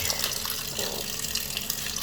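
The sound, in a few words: cold water poured onto hot French fries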